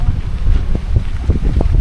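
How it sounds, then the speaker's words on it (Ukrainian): Heavy wind buffeting the microphone outdoors in the mountains of Poland, a loud continuous low rumble with gusty surges, no voices. "А, вітер сьогодні."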